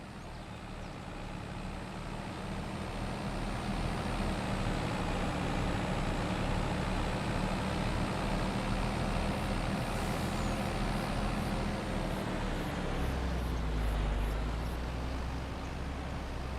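A heavy MAN truck engine in Farming Simulator 25 drones steadily throughout, a low continuous rumble with a faint hiss and a brief rise in pitch near the end.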